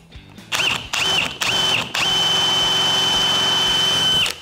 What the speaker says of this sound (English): I could literally take a drill bit, drill right down the middle